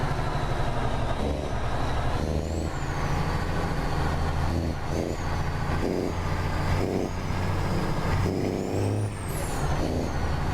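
Heavy truck in Realistic Truck Driving, its engine droning steadily with low rumbling, repeated air-brake hisses and rising gear-shift whines across a long stretch, no voices.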